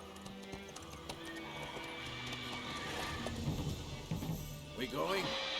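A horse in The Witcher 3 breaks into a run, its hooves clip-clopping in quick rhythm, followed by a neigh near the end, under game sounds and someone speaking.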